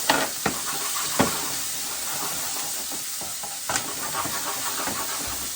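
Garlic and onion sauté in oil, with a bright steady sizzle and hiss close by and a few sharp knocks of stirring, loud and free of talk.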